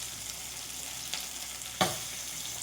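Cashews and curry leaves frying in hot oil for a Kannada home recipe give a steady close sizzle, broken by two short sharp pops near the middle and end.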